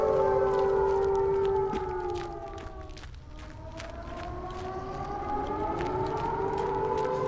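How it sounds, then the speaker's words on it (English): A wailing civil-defence-style siren rises and falls in pitch in a British liminal-spaces game, sounding loud and sustained, dipping in the middle before swelling again, with faint footsteps beneath. "The siren sort of cuts out very awkwardly"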